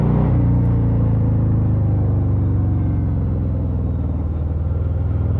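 A 2023 Harley-Davidson Sport Glide 107 motorcycle engine gives a steady low rumble throughout, loud and close, with a subdued, even exhaust note and no talking.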